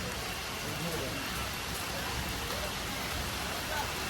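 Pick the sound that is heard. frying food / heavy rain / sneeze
heavy rain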